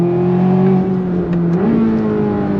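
A 2026 C8 Corvette ZR1 on a track pulling hard in second gear at full throttle, its loud engine note droning steadily and climbing slightly in pitch, close and alone with no talk.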